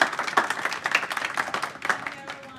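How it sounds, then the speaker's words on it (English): A meetup audience at a JavaScript programming talk applauds a speaker, with scattered, fairly close individual claps that gradually thin and fade, and faint voices underneath. "can we give a big round of applause for Patty"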